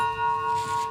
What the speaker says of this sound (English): those who told stories alongside Nancy for decades rang a bell for her 8 times